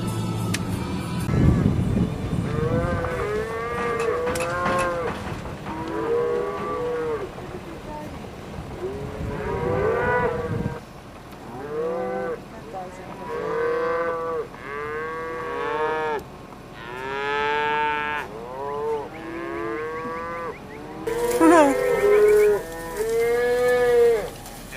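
Cattle at a roadside cow crossing on a drive out of Jackson: many cows moo loudly and repeatedly, some near and some farther off, with overlapping calls and idling vehicle noise underneath.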